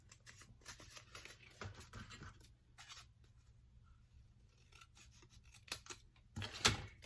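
Scissors cut a paper piece for a mini album, giving faint close snips and rubbing rustles that end in a few louder, sharper cuts, with no speech.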